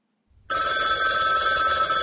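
Telephone bell in the office below rings again in a stage play, bursting in after a brief quiet and continuing as a loud, unbroken electric ring with no voices.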